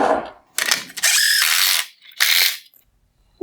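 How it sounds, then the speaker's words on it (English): A ratchet turns a 5/16 inch headlight adjusting bolt on a 2019-2020 Nissan Altima halogen headlight, giving three loud close bursts of rapid clicking separated by short pauses. "I'm going to turn this 5/16 inch adjusting bolt to the left until"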